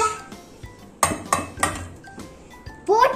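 Mango pieces dropped into a steel mixer jar for a milkshake, giving a few sharp metallic clinks and clatters spaced about half a second apart, close and fairly loud, with no talk.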